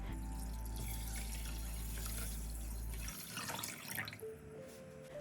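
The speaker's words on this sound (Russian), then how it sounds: "В кастрюлю всыпаем уже хорошо вымытый 1 стакан риса и на 1 стакан риса вливаем 2 стакана воды" Two cups of water pour into a pot holding one cup of washed rice. A steady, close splashing stream lasts about three seconds, then stops, leaving faint clinks.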